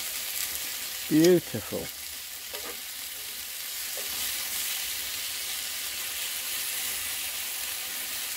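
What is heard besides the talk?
pork medallions and apples sizzling over wood fire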